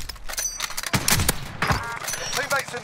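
Rapid bursts of mounted gun fire in Call of Duty: Modern Warfare crackle at mid distance, several volleys stacking up with sharp cracks and thumps, while players talk over the shooting.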